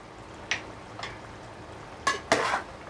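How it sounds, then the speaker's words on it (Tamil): Biryani with yogurt and garam masala being stirred in a pot, a few soft scrapes and clinks of a spoon against the metal, the last two louder and longer, over a quiet background. "நல்லா கிண்டி விட்டுக்கோங்க"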